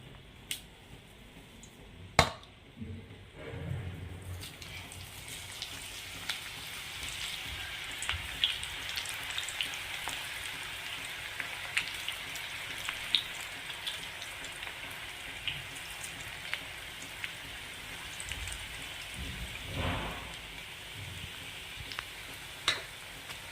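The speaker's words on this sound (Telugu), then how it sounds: "మనకి ఆయిల్ అనేది హీట్ అయిపోయింది అనమాట ఇప్పుడు ఇంకా వేసేసుకుందాం పకోడీ" Rajma pakodi batter frying in hot oil gives a steady sizzling hiss that runs throughout, with a few sharper crackles and pops, close and fairly quiet, with no one talking.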